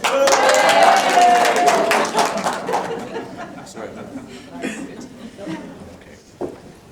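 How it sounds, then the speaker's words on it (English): An offsite meeting audience claps loudly for a couple of seconds, then the clapping tapers off into chuckles, scattered laughter and chatter, with a few stray taps near the end. "Do we give them a round of applause?"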